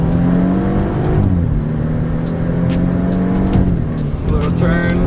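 A BMW in sport mode accelerates hard, its engine note rising through the gears in a steady, close, loud drone inside the cabin, with a voice speaking over it.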